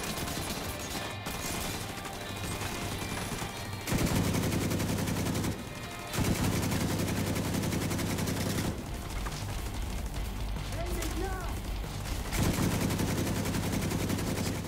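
Sustained automatic gunfire from a deployed turret and weapons in the video game The Division 2, continuous dense rattling bursts with short breaks and mechanical clatter, fairly close and steady.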